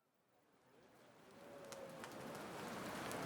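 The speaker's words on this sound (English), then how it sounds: "The soft rain is falling here in Chicago, Illinois, at the World Columbian Exposition." Soft rain falling in Chicago, Illinois, a gentle hiss that slowly swells louder over a few seconds, with faint scattered drips and a distant low murmur underneath.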